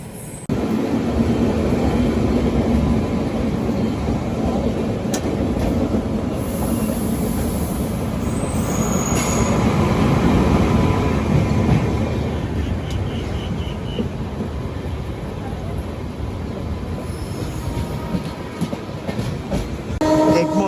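The Janshatabdi Express from Chennai Central to Vijayawada rolls along the rails near Basin Bridge Junction with a continuous loud rumble and rhythmic clatter, heard steadily from on board with no talking.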